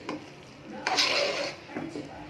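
A spoon scrapes and knocks in a pot as tempering is mixed into soft Tamil ven pongal: a few brisk stirring strokes, one longer scraping sweep in the middle, fairly close.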